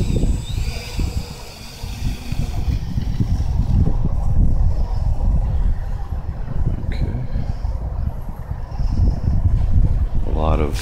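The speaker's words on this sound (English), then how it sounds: "It's also real windy. It's about a good 15 mile per hour wind around." A strong wind of about 15 miles per hour at an RC flying field buffets the microphone in a loud, steady low rumble that gusts and fluctuates throughout.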